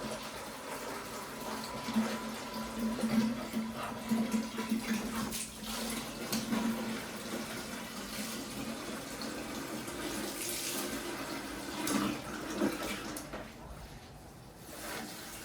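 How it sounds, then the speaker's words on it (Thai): Water runs steadily from a tap into a tank being filled for watering vegetables, a continuous close gush that shifts slightly as the level rises, with quiet voices in the background. "ใส่น้ำไว้รอไปรดน้ำผักกันเนาะ"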